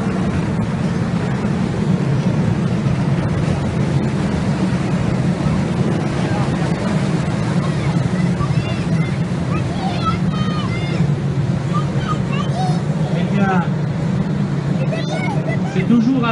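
F4 powerboats racing on the water at Épinay-sur-Seine in France, a steady broad engine drone with wind and water wash throughout, under continuous excited race commentary.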